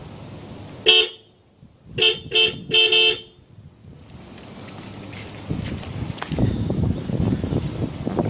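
An aftermarket Hella Sharp Tone horn fitted to a 2015 Suzuki Swift, heard from outside the car: one short blast, then three more in quick succession, loud and clear over wind noise.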